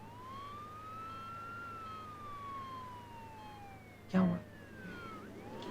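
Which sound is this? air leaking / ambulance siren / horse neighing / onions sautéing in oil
ambulance siren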